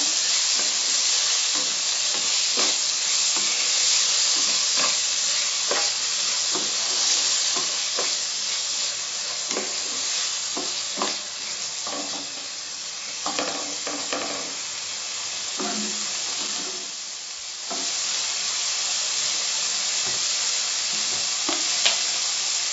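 Chopped tomatoes frying and being stirred in a pan, a continuous bright sizzle with repeated scraping stirs and brief dips in the hiss, heard alone without talk.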